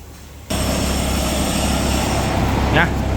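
A custom factory-built hay baler with a 2.6-metre cutting header has its engine started, kicking in abruptly to a loud, steady mechanical drone that runs on unchanged at close range.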